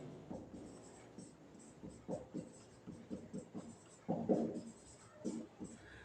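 A pen scratches across paper during a math lesson in short, uneven strokes, faint and close. Light breathing sits beneath the writing.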